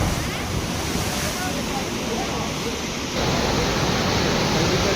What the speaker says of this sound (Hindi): चारों ओर लहरों का शोर,